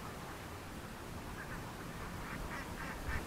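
Ducks quack in a rice field, the calls faint and scattered over a steady outdoor background hiss, with a few clearer quacks near the end.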